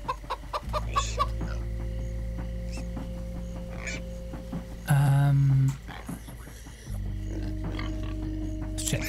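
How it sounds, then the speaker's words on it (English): Chickens cluck in Minecraft Story Mode amid a game soundtrack hum, with short bursts of clucking and a loud squawk in the middle, and pig grunts mixed in among the barnyard noises. "Oh, stupid chicken!"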